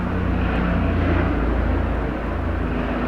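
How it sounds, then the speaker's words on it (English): Aircraft passing overhead outdoors, a steady broad low-pitched drone of moderate loudness that holds throughout with no voices. "we got fucking aircraft overhead somehow"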